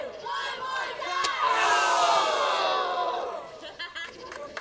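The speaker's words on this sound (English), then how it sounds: "the discomfort of the crowd here in attendance at Blood and Honey, all wincing at the same time as Lizzy looks to turn her attention to Sick" A wrestling crowd in an arena groans and shouts in a swelling collective reaction that peaks mid-clip and then trails off into scattered voices.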